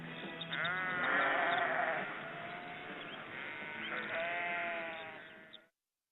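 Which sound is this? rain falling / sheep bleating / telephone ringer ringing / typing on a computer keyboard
sheep bleating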